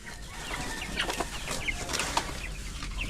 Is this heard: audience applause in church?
no